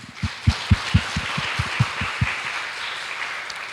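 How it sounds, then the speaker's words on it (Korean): Church congregation at a Korean sanctuary dedication service claps together in about a dozen distinct, evenly spaced claps that fade into a soft room murmur. "하나님께 영광을 우리 모두 한번 돌리는 큰 박수 하겠습니다"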